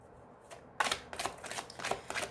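Tarot cards are cut and handled for a reading, giving a few crisp papery riffles and slaps close by, with a quiet pause before the first one.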